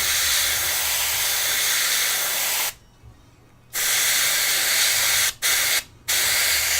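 An airbrush sprays paint in a steady, loud, close hiss that runs continuously, cuts out for about a second, resumes, then breaks off twice more in brief gaps before continuing.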